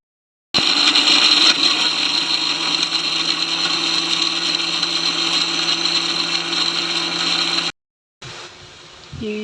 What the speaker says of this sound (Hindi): ग्राइंड कर लेंगे